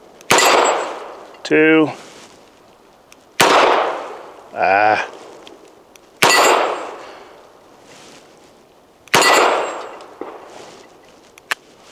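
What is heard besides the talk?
Charter Arms Undercover .38 Special revolver shots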